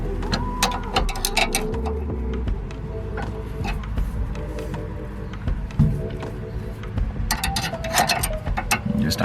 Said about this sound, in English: Just to add a bit of torque to it, I use the box end, and I'm going to tighten it down.